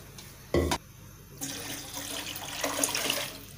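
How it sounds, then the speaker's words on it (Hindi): Tap water running into a cooking pan in a home kitchen while rice is being boiled. There is a brief thud, then a steady, moderately loud hissing rush of flowing water for a few seconds, with no talk. "पानी डाला"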